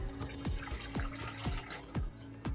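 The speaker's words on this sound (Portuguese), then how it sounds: "a Mari tá enxaguando as roupas ali" Clothes are rinsed by hand in a bucket of water, making rhythmic sloshing and splashing about twice a second, close by with no voices.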